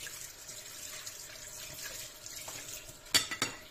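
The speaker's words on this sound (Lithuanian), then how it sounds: "Puikiausiai mes ją išplauname netgi šaltų vandeniu." A dirty plate being washed with cold tap water, a faint steady stream of running water with soft rubbing, followed by a few sharp clinks and knocks of the plate near the end; no talk.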